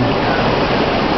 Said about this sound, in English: Orleans water fountain at the Pleasonton